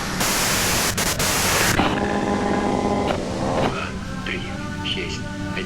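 Loud hiss of white noise from a stereo in Disco Elysium fills the first seconds, then cuts to quieter noise under a low hum and soft tonal music.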